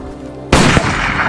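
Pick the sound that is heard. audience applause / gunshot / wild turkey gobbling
gunshot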